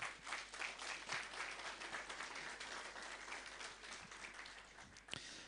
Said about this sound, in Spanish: Una vez más, por favor, vamos a dar fuertes aplausos.